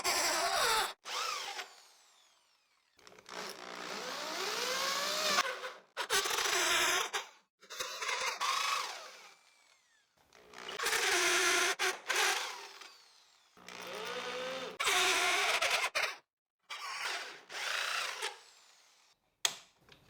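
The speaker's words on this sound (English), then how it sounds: "I'll drill using the hand drill and this 64 millimeter hole saw." A hand drill fitted with a 64 mm hole saw bores into old wood in repeated whining bursts of a few seconds each, separated by short pauses, close and clear with no talking.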